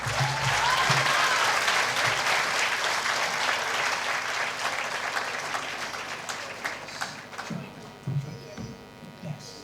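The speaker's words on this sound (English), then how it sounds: "They will understand your clap more." Large audience at a school annual day celebration gives a big round of applause, loud and dense at first, then thinning into scattered claps as it fades.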